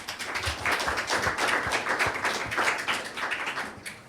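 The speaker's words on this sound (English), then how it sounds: "Round of applause" An audience at a 2014 media symposium gives a steady round of applause, many hands clapping in a quick, even patter that holds at a moderate level and starts to thin near the end.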